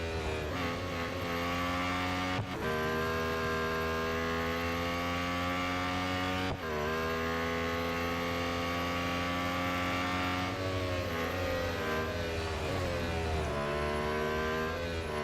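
A Lotus Emira GT4 race car in the Real Racing 3 video game: the engine howls loudly and continuously, its pitch climbing through the gears with sharp drops at each shift, with no talking.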